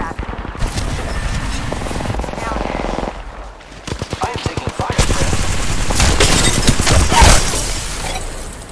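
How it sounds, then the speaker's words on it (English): Rapid bursts of video-game gunfire crackle loudly in the middle of an online shooter match, dense overlapping shots with a helicopter-like drone and impacts. "Getting shot at."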